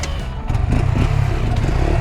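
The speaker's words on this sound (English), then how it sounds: "just kind of rev it a little bit, then kind of click it in" A 2019 Honda Grom motorcycle with a damaged clutch revs close by, its engine rising after a quiet start into a steady, loud drone with a rough, uneven edge.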